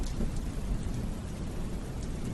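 Steady heavy rain hisses throughout, with a deep rolling rumble of thunder underneath; no voices.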